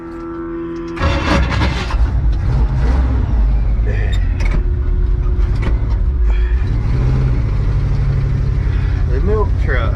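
A classic milk truck's engine runs loud and close with a steady, heavy rumble, while someone talks over it throughout.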